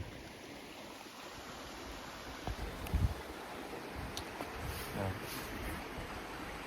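Water from a spring in Armenia flows in a steady, close rushing wash that never lets up, with a few soft knocks and faint voices nearby.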